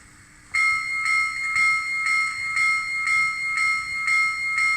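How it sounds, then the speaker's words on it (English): A small N scale model steam locomotive bell (Athearn Big Boy) rings steadily in an even, repeating rhythm, bright and close, starting abruptly after a brief low hum. "The bell."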